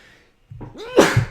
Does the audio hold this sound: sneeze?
yes